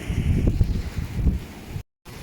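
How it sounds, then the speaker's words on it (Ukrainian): Wind and heavy rain lash down during a hurricane in Ukraine, a dense, loud roar of rain and gusts that fills the scene continuously before a brief cut to silence. "Дощ пішов. Дощ прям такий лівень."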